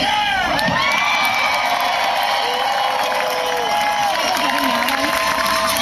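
A large crowd cheers and whoops loudly at a political event, with sustained roaring, high shouts and rising voices throughout.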